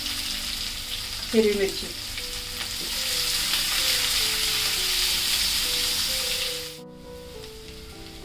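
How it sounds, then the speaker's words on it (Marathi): Onion, hing and green chili frying in a pan, a steady close sizzle running under a brief spoken remark before dropping away near the end. "कांदा आहे ना, हा आपल्याला जास्त परतून घ्यायचा नाही आहे, थोडासाच गुलाबी करून घ्यायचा आहे"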